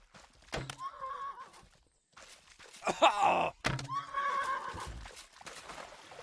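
Horse in the online fighting game Mortal Online 2 gives two rough neighs amid thuds and hoof-like knocks during a chaotic multiplayer fight, fairly faint overall.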